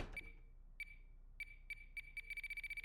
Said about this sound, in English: I don't think those type of grenades beep like that